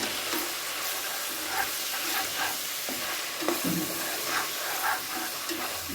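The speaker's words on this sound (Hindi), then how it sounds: "अब जैसे ही मैं इसको 2 से 3 मिनट टमाटरों को फ्राई करती हूँ" Tomatoes fry with ginger and garlic in a pan, giving a steady sizzle with occasional stirring scrapes and soft spatters throughout.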